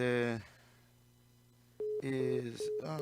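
A telephone call fails with a repeating busy signal: steady tone bursts separated by a quiet gap, heard faint over a phone line with brief voice-like fragments.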